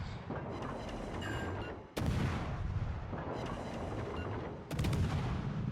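Ship guns firing in the naval video game World of Warships Legends, two heavy booming salvos a few seconds apart over a constant rumbling battle din, loud and dense.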